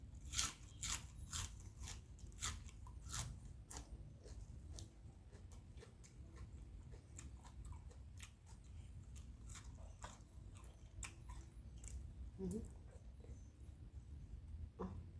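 Someone eats crunchy fried fish cakes with young cucumber, heard as repeated close crisp bites and chewing crunches in an uneven rhythm, fairly quiet and without speech.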